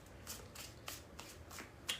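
Tarot cards shuffled in quick riffling bursts, about six crisp swishes spaced roughly evenly, close and fairly quiet with no talking.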